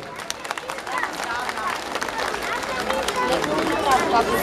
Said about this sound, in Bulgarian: Силни аплодисменти за децата от детска градина Зорница, село Овча могила.